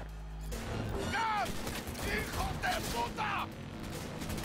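Pistol gunfire fired from the passenger window of a moving car in the Cyberpunk 2077 video game, several sharp shots mixed with engine noise and shouted voices.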